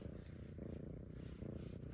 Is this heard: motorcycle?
no